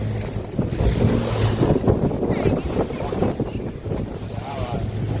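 A boat heads out of Waghotan creek into the Arabian Sea near Vijaydurg fort, with a steady low engine drone, continuous wind rushing on the microphone and the wash of waves throughout.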